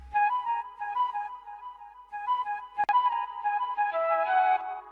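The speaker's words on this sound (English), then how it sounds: "This is a flute without the effects." A dry flute sample with no effects plays a simple sustained melody of several held notes, clean and close, with a sharp click midway.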